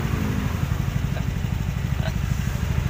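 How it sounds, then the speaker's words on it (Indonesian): A Honda Blade motorcycle engine runs close by in a steady, rough, pulsing idle that holds without pause, with a faint tick or two above it. "Ini suaranya parah nih motor Blade."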